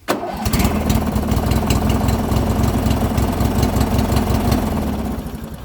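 A lawn and garden tractor engine cranks and catches, then settles into a steady, loud idle with a fast regular pulsing throb that holds close and alone throughout.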